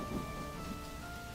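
A thunderstorm with rain hisses steadily under a low rumble, faint and unbroken, with no voices.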